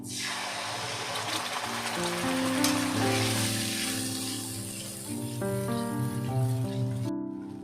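Yogurt paste added to hot oil with fried chilies: a broad, sustained sizzle that swells and then eases, with some background tonal hum and no clear speech.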